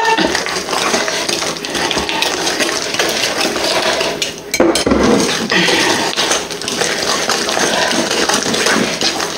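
A spoon scrapes and clinks steadily against a bowl while tiramisu mixture is stirred vigorously, a close, continuous clatter with a brief pause midway.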